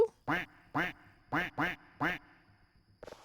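A duck in the video game Voices of the Void quacks five times in close, evenly spaced loud calls, followed by a brief faint clatter.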